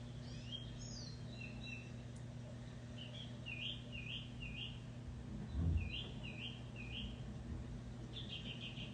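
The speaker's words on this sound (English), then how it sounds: "Just listen to the birds in the background." Birds call and chirp in the background in repeated short phrases, faint against a steady low hum, with no talking.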